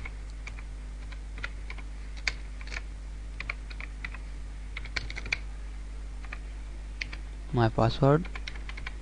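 Close, irregular clatter of keystrokes on a computer keyboard while signing in to Yahoo Messenger, with a short spoken phrase near the end.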